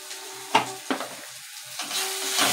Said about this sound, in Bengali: মশলাটা প্রায় কষানো হয়ে এসেছে, লেগে যাচ্ছে।